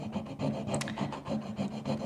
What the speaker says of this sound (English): So I'm just burnishing as I go